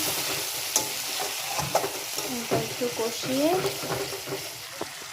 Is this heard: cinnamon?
yes